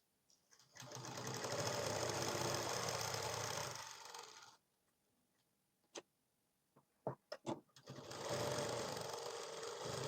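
A sewing machine stitches the side seam of a blouse in two long continuous runs, loud and steady, separated by a quiet pause with a few sharp clicks and knocks.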